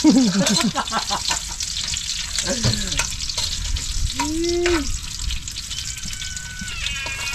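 Garlic fries in a pan ahead of the onions, giving a loud, steady sizzle throughout with brief voice-like tones and a few clinks over it.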